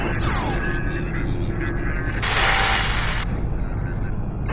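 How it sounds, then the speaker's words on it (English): Orbital surface bombardment in Homeworld sends heavy booming explosions rumbling over a dense, loud background of deep thuds and a hissing burst midway, with game radio chatter mixed in. "Prepare for immediate surface bombardment."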